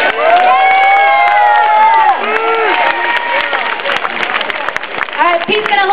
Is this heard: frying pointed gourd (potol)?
no